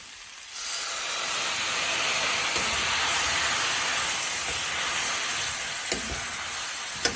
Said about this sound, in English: you are deglazing this pan with the bourbon